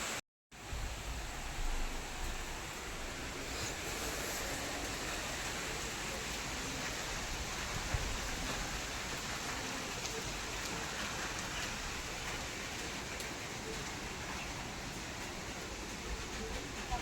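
Heavy rain pours steadily as an even, dense hiss that holds at a constant level from start to end, after a brief silence at the opening.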